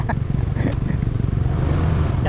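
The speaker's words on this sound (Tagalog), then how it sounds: "Mabilis po talaga yung motor yan. 300cc." A 300cc motorcycle on the move, its engine giving a steady low droning rumble with road and wind noise throughout and a few faint clatters on top.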